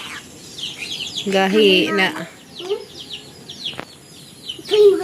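A chicken clucks close by in short repeated calls with high chirping notes. A person's voice speaks briefly partway through.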